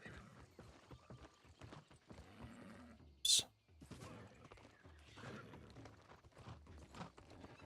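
Horse hooves clatter steadily in the video game New World Aeternum, a quick clip-clop rhythm with mechanical clicks, faint and continuous, interrupted once by a sharp bright chime.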